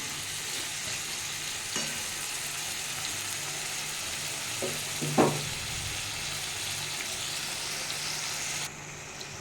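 Bombay duck (lote fish) frying in a pan as its water cooks off, a constant close sizzle broken by a few brief clinks and scrapes of stirring.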